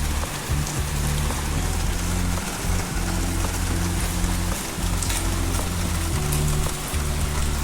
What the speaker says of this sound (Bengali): সকালবেলা একটু থেমেছিল আবার শুরু হয়েছে বৃষ্টিটা